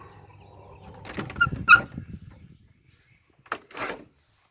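Doors on the side of a chicken house swing open, giving a burst of creaking and rattling knocks, then a quiet gap and two shorter clunks.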